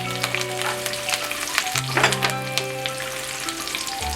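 Garlic sizzling in hot oil with mustard seeds and curry leaves for a Kerala-style prawn pickle, a steady close crackle with scattered pops over a constant low hum.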